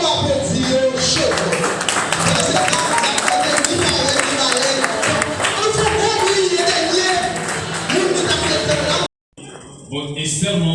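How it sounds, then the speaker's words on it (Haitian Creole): Wedding guests clap and cheer in a dense, continuous wave of applause with crowd noise, loud and sustained for about nine seconds before a brief gap and a quieter return. "on va applaudir chaud."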